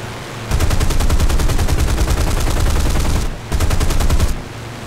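Loud, rapid machine-gun fire from a Spitfire F Mk XIV with a Griffon engine in War Thunder realistic battles: a long sustained burst, a brief gap, then a second shorter burst over engine drone.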